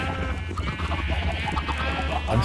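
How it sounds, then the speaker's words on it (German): Minecraft sheep bleat in quick succession within a busy game scene, their short nasal cries riding over a steady low hum and other soft in-game noises, with no talk. "Schafe!"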